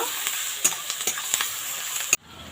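Chopped onions sizzle in a hot pan for a quick flour-and-onion snack, a steady frying hiss broken by a few sharp utensil knocks before the sound cuts off abruptly near the end.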